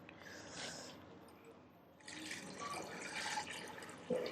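Water is poured into a pressure cooker holding beef, spices and salt for yakhni pulao, a faint brief splash, a pause, then a louder stream and trickle ending in a small clink.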